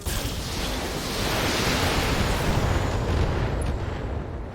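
A BattleTech mech fires all its weapons at once, producing a loud, sustained roaring blast of broadband noise that swells and holds for several seconds before easing off.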